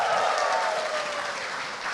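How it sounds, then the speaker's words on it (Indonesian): A stand-up comedy audience claps for comedian Arif Brata, dense steady applause that stays loud and close for the whole moment, no talking over it. "Sekali lagi boleh tepuk tangan buat Arif Brata."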